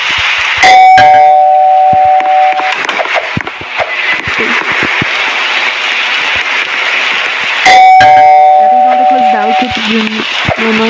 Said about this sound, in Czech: Děláme zvonkohru.